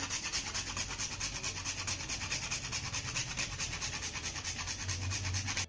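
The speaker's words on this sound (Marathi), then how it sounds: "त्यानंतर थोडंसं जायफळ यामध्ये आपण किसून घालूया" Nutmeg rubbed against a fine kitchen grater, a steady rhythmic rasping scrape repeating quickly and evenly, close up and alone with no talk.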